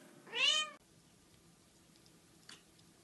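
A single close, clear meow from a small pet cat sitting on a tile floor, followed by near silence with one faint click.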